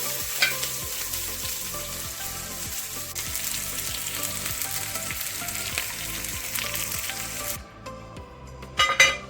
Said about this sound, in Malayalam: കടുവറക്കാനുള്ളത് ഇട്ടിട്ടുണ്ട് അപ്പം ഒരു ഒരു ചെറിയ പീസ് ഇഞ്ചിയുടെ കഷ്ണവും കൂടെ ചെറുതായിട്ട് അരിഞ്ഞിടണം